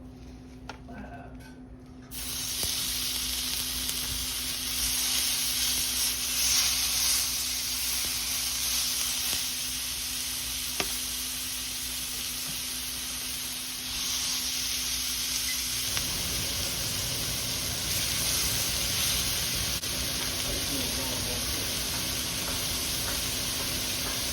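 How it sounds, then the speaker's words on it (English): Continuous sizzling from burger patties frying on a hot griddle, steady and close, with occasional scraping and a low background hum. "So now we got our burgers applied and they're good and sizzling."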